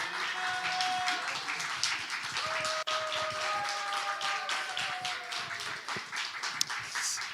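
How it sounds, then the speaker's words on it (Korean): A church congregation at a New Year service claps to welcome a visiting missionary, many hands striking in a fairly even, rhythmic patter with occasional sharper claps, filling the hall at moderate loudness. "열화와 같은 환호와 우리 할렐루야로 우리 박수로 우리 선교사님 맞이하도록 하겠습니다"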